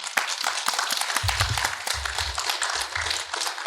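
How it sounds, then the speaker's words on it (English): A conference audience at a superintendent symposium breaks into applause, a fairly close, crisp burst of many hands clapping that carries on steadily for a few seconds. "Let's give them a round of applause."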